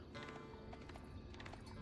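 A horseback scout gallops across the map in Age of Empires IV, a steady clip-clop of hooves with an occasional whinny beneath dense game ambience. The whole stretch is busy and loud.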